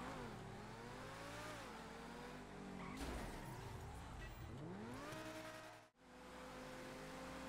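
A car in GTA V accelerates hard, its engine pitch climbing and falling through gear changes, tires squealing, with a brief dropout near the end before the revving resumes.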